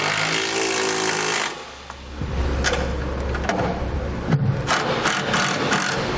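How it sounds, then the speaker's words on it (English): Impact tool or ratchet tightening bolts that hold a B and W underbed gooseneck hitch side plate to the cross beams under a 2019 GMC Sierra, with loud close mechanical rattling and bursts, plus a steady low hum. "we're going to tighten down our hardware that's holding our side plate to our cross beams"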